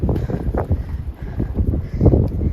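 Strong gusts of wind buffet the microphone on the rocky summit of Trade Mountain, coming in rough, uneven surges and roars with no talking.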